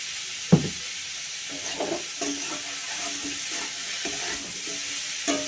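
A vegetable bhujia sizzles in a pan as it is stirred with salt, a soft steady frying hiss broken by a sharp scrape and repeated light spatula strokes, close and without talk.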